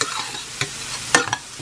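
Garlic, onion and ginger sauté in a pan, heard as a quiet crackle with a few sharp scrapes and clinks of stirring, close and without voices.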